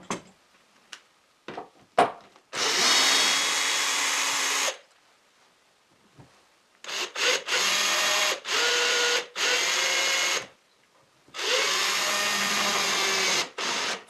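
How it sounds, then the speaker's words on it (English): Plunge router cutting a board clamped flat on a dovetail jig, heard as three long, loud bursts of steady high whine with short clicks and handling knocks in the pauses between them. "I am going to route with the board like this, flat"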